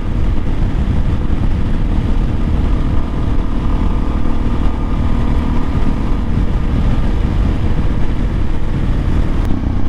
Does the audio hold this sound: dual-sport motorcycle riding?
yes